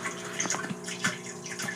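Water from a pond pump splashes through a clear plastic hose into the top of a 55 gallon plastic barrel, a steady close trickle and patter with small irregular drips.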